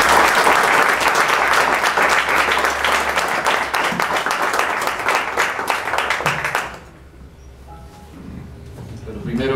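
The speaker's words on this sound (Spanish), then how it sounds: "quisiera antes pedirles un aplauso caluroso" Warm, sustained applause from a lecture audience at a university history talk, loud and continuous for over six seconds, then dropping away to a quiet room with faint voices and small noises.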